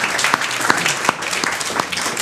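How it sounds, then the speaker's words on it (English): Steady audience applause at an awards show, filling the whole short stretch with dense clapping and a few sharper individual claps standing out. "If we could all give them a round of applause for putting this show together."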